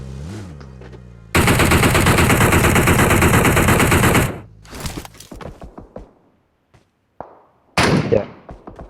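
Automatic gunfire from a shooting video game: a sustained loud burst of rapid fire for about three seconds, then scattered single shots and thumps, a near-silent pause, and another loud burst near the end.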